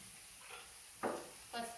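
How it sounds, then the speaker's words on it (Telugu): Ground bitter gourd paste and turmeric fry in tempering oil in a pan. A faint low sizzle runs throughout, broken by a few brief stirring scrapes near the end. "పసుపు వేసుకొని మంచిగా దీన్ని ఫ్రై చేసుకోండి."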